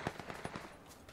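Gunfire from the left in the video game Battlegrounds, rapid automatic bursts of shots heard faint and distant, a quick rattling series of cracks with no talking.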